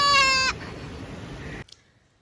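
A single goat bleats loudly and close for about half a second, a harmonic wavering call, followed by a low scuffling rumble and then near silence.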